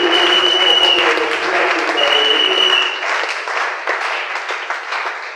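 A church congregation claps loudly and steadily for about three seconds, the applause then thinning into scattered claps that trail off.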